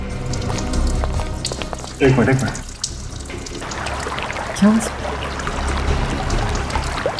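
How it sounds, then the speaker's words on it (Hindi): Water runs and trickles steadily near a roadside dhaba, with a brief louder splash partway through, while people speak briefly over it. "पानी बहने की आवाज आ रही है।"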